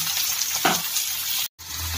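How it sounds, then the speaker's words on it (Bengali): Chopped onion and tomato frying in a pan for a Bengali-style Bombay duck (bombil) fish curry, giving a steady close sizzle with a brief stirring scrape and a momentary drop to silence. "দিয়ে আমি এটাকে একটু ভাজা মতো করে নিচ্ছি।"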